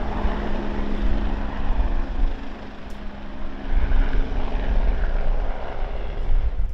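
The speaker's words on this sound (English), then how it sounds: "Pedrosa, he's late for his next meeting, and he's had to get a helicopter down to Goodwood." A helicopter thrums with a low, continuous rotor and engine rumble under a wash of broadband noise, steady and fairly loud for several seconds with no talking, heading toward Goodwood.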